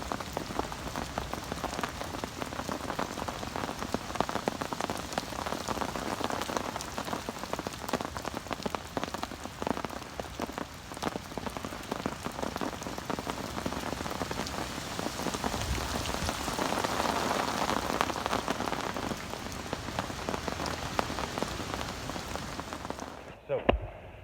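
Steady rain pours onto the River Wye and the riverbank during a barbel fishing session. A constant, even hiss of falling drops continues throughout, close and moderately loud, with no clear talking.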